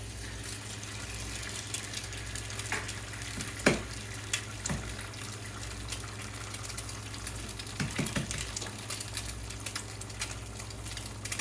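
Eggs frying in a pan on a stovetop for breakfast sandwiches, a steady sizzle running throughout with a few sharp clicks and taps of utensils against the pan.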